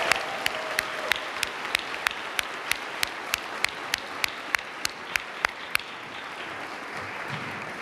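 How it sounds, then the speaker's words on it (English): A room full of people at a school event clapping steadily, loud and sustained for several seconds before tapering off near the end. "Let's give them another round of applause."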